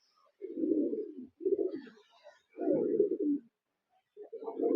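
Kaldoma pigeons in a loft give soft, low, rolling coos in several bursts separated by short pauses, close and fairly quiet, with a faint chirp or two in the background.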